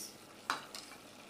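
Goat meat with jackfruit seeds, cloves, cinnamon and cardamom being stirred in a pot, two soft spoon scrapes over a faint sizzle, quiet and close, no voices.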